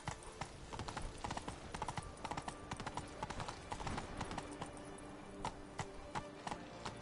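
Hooves of Roach, Geralt's horse in The Witcher, clip-clop in a steady walking rhythm, close and fairly loud over a dense layer of game ambience and music.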